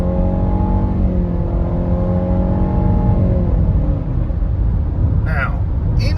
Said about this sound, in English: Let's do a little freeway acceleration.